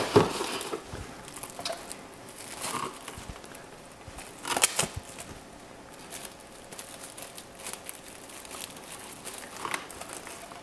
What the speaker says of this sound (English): I take Saran Wrap, and that's how I'll basically cover the rest of the body with Saran Wrap